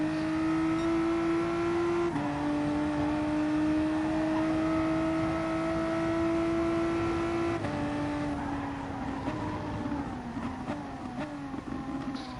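Racing car engine in a driving video game at the Sardegna track, a sustained high whine holding through a corner, then dropping and shifting with brief throttle changes near the end, loud and continuous with no talking.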